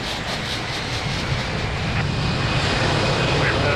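An airliner takes off at Lisbon Airport with a steady, loud broadband engine roar that holds throughout at a moderate distance, with no voices over it.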